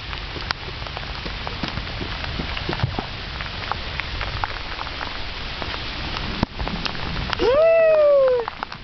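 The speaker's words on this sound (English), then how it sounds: "Going out in the rain." Rain falls steadily outdoors with scattered drip and patter sounds near the microphone. A voice briefly cuts in near the end.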